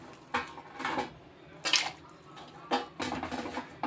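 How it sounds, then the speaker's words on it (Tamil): Dried fish dropped into a vessel of water to soak, a few short splashy clatters and wet knocks against the container, close and fairly quiet. "இப்போ இந்த கருவாட்டை வந்து தண்ணிக்குள்ளே போட்டுருவோம்."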